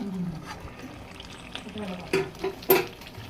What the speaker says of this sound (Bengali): এবার যতক্ষণ গন্ধ না যাবে মশলাটা ততক্ষণ কষাতে থাকবো